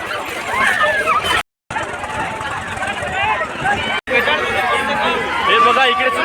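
Dense crowd hubbub fills a busy temple fair at the Sant Eknath Maharaj yatra, with steady overlapping voices and chatter near and all around, briefly cut out twice.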